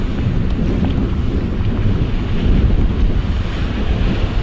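Strong wind buffets the microphone outdoors beside a flooded road on a 46-degree day, a loud, continuous low roar and rumble lasting the whole stretch with no speech.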